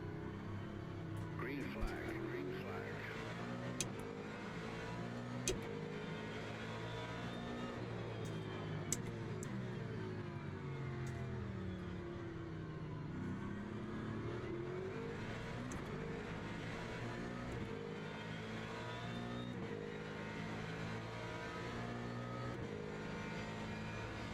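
Race car engine in the sim game Le Mans Ultimate, revving steadily with continuous harmonic drone and rising and falling pitch through gear changes, with occasional faint voice in the background.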